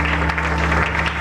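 Church congregation applauding and acclaiming at a Congolese revival church plenary, a steady dense wash of clapping with an organ or keyboard tone held underneath for a brief moment.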